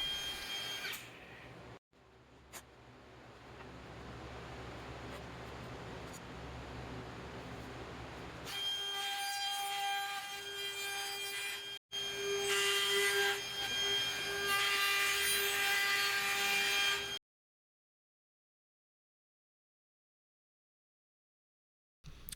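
A router fitted with a 1/8 inch grooving bit cuts a groove in cedar for a river table, giving a steady, loud whirring rasp that breaks off briefly and then comes back harsher before stopping abruptly into silence.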